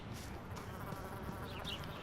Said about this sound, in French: ce moustique qui était vraiment dans mon oreille pour le coup